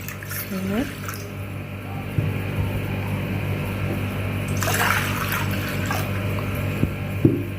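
Two cups of water pour from a tap or jug into a pot for sugar syrup in a home kitchen, a steady close splashing rush with a louder surge midway and a few small knocks, a voice heard briefly.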